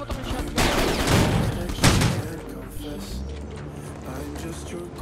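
Gunfire in a competitive shooter game, a quick volley of loud, close shots followed by softer booming and rumbling, with game noise behind and no clear voice.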